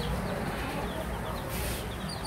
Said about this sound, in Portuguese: Esse aqui é os pintinhos caipira.